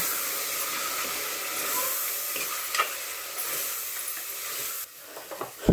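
Chili and spices stirred in a frying pan while cooking bottle gourd mutton, giving a steady loud sizzle and hiss with a few scraping strokes of a spoon near the end.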